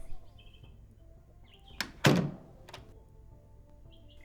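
Heavy doors to a castle keep swing shut in a fantasy setting, a sharp knock followed by a deep, resonant thud that fades with a faint creak, heard up close against quiet surroundings.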